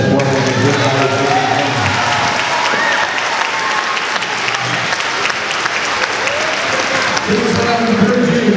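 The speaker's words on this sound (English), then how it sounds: "Another round of applause for Ted Foremen and his colleagues." Audience applause at a school music festival fills the hall with steady, loud clapping throughout, with some crowd noise and brief voices mixed in.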